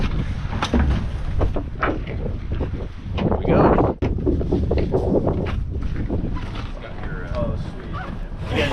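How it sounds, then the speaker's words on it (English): A water taxi in an Alaskan cove rumbles with a steady engine drone, and strong wind buffets the microphone throughout while people talk over it. "So this is a water taxi with another group."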